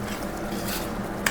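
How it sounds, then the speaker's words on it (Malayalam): Masala sauce bubbles and simmers in a pot in a ship's galley, giving a steady close sizzle with faint stirring and a small clink of metal at the end. "മസാല തിളച്ചു വരുന്നുണ്ട്"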